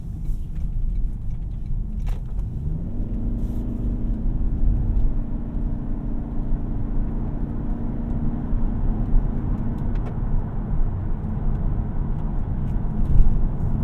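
A 2025 Toyota Camry XSE AWD hybrid driving on the road, with a steady low engine and road hum and a smooth rising drone, heard from inside the cabin without any talking.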